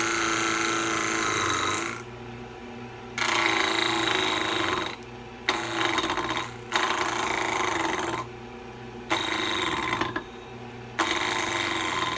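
Wood lathe spinning a workpiece while a turning chisel cuts the wood, a loud continuous whirring drone broken by repeated scraping, gritty cutting passes that start and stop in several bursts.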